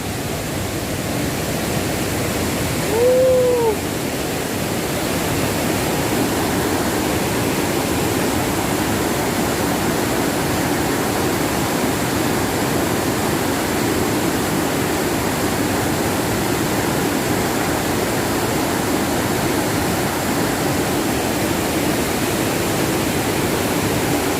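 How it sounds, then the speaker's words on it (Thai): A waterfall near a vegetable garden roars as a steady, loud, unbroken rush of falling water that fills the whole stretch, with a brief faint tone early on. "น้ำตกใกล้ๆสวนผักเท่านี้ละพี่น้อง"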